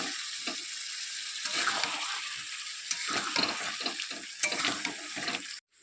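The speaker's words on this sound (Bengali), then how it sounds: "এই যে চিকেন রান্না করছি তো এই দেখো চিকেনটা ভালোভাবে কষিয়ে নিচ্ছি" Chicken is stir-fried in a pan and worked down in the kosha style, giving a close, continuous sizzle broken by irregular scraping and stirring strokes, then a sudden cutoff near the end.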